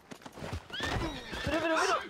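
A horse neighing in the RedM roleplay video game, with hoof clip-clops at the start, then a loud rising whinny with snorting, heard alongside nearby speech.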